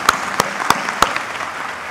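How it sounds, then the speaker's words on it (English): Audience applause at a startup conference talk, a short burst of clapping with a few sharp louder claps standing out from a steady patter across the room. "So a round of applause"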